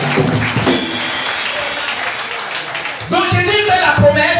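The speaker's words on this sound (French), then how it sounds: "Si tu es d'accord, acclame le Seigneur Jésus." A church congregation at a Pentecostal service claps and cheers in a steady, dense wash of applause, and a voice rises over it near the end.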